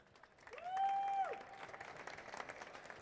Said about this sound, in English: So can we have a warm round of applause for Kenny,